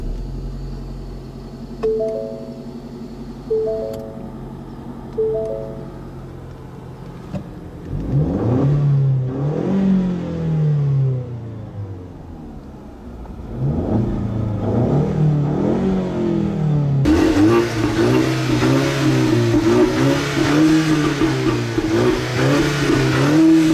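A 2015 Ford Mustang EcoBoost's 4-cylinder engine idles, then revs repeatedly in rising and falling sweeps, building to a louder sustained rev near the end, heard close with no talking.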